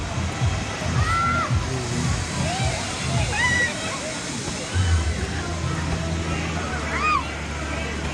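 Water sloshes and splashes as people get into a resort pool, a continuous close wash of movement under lively voices and bird-like chirps of talk.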